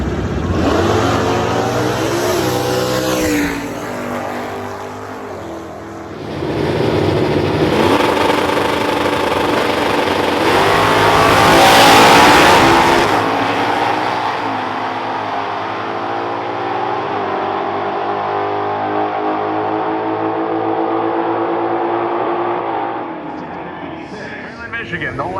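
Stock Eliminator drag race car engines at the NHRA US Nationals, including a 1967 Camaro Z28 with a 302 and 4-speed, fire up and rev loudly and steadily, with a rising peak in the middle and crowd and announcer speech underneath.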